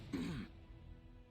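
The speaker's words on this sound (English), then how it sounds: "a cough." A single short, low throat-clearing cough from a character in Pathfinder: Wrath of the Righteous, close and fairly quiet, over a soft background hum.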